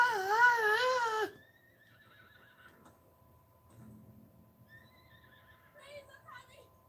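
A horse whinnies loudly in the Red Dead Redemption video game, a wavering cry lasting just over a second, followed by faint background game sounds and low rumble.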